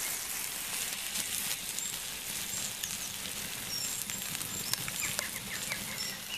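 Burgers sizzle on a bargain Outbacker portable wood burner stove, a steady, soft hissing crackle outdoors with scattered pops and faint birdsong chirps in the background.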